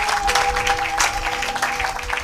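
A congregation claps and applauds in church during a French-language sermon, a dense, steady wash of clapping that fills the whole short stretch with a faint sustained tone underneath.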